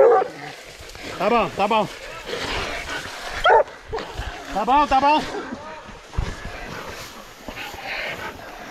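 A dog barks in a few short, sharp bursts while people talk and exclaim close by.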